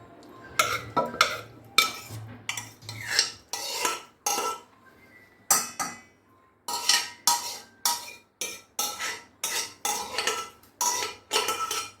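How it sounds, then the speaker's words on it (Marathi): Cooked red pumpkin being mashed smooth in a metal pot, heard as a run of scraping, clinking utensil strokes against the pot that come in a steady rhythm and sound close and fairly loud. "आता मी हा भोपळा एकजीव करून घेत आहे"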